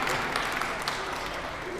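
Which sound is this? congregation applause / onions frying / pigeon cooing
congregation applause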